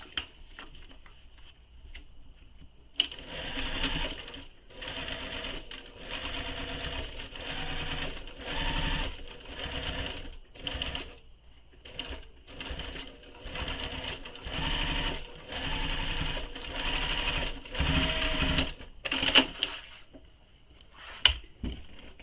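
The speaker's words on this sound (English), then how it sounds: "So we're going to top stitch the top here through all the layers." A sewing machine topstitches through several fabric layers in repeated bursts of rapid mechanical whirring, starting and stopping many times over twenty seconds with short pauses and small clicks between runs, close up.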